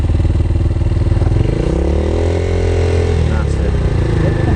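Motorcycle engine idling and held at the biting point on a slight uphill during CBT training, a loud, steady, busy throb with a gentle rise and fall in pitch as the clutch is feathered.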